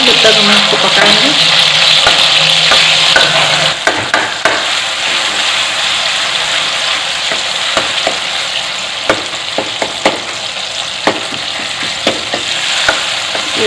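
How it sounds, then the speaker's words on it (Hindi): Tomatoes fry and soften in a pan for Sindhi chaap chole, a loud continuous sizzle with frequent sharp clicks and taps of a spoon stirring against the pan. "टमाटर थोड़ा मुलायम हो जाए जब तक हम इसको पकाएंगे।"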